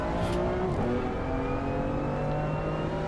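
A race car in the game Assetto Corsa Competizione drives on at steady, high revs, its engine drone holding a continuous tone with slight pitch shifts as the driver warms up the tyres.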